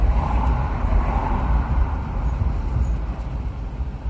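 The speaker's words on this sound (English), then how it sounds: "Articulated lorry coming up behind me." An articulated lorry rumbles along behind a moving car, a deep continuous engine and road drone heard from inside the cabin, steady and fairly loud with no talk.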